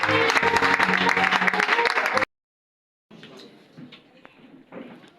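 A church congregation applauds together, a dense, loud burst of clapping lasting about two seconds that cuts off abruptly, followed by quieter scattered sounds and movement.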